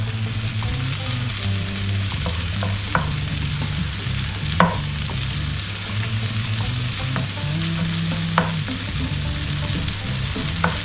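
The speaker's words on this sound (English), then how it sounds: "Give that a nice stir." Yucateca green jalapeño being stirred in a hot pan, with a steady sizzle and frying crackle throughout and occasional clicks and scrapes of the utensil against the pan, no talking.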